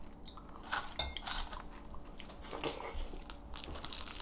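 Close crunching and biting of maesaeng-i seaweed dish, with a few sharp bites early on and softer chewing throughout, plus faint clinks of cutlery and dishes; no talking.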